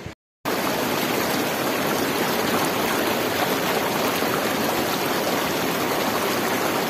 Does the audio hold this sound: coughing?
no